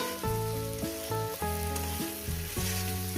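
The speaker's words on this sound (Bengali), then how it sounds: "এইবার এটাকে আমি আরও চার পাঁচ মিনিট ধরে এই বেগুন আর কুমড়োটাকে এইভাবে ভাজতে থাকবো" Eggplant and pumpkin fry with green chilli in a pan, a steady sizzle under sustained musical tones that shift between notes, with no voices heard.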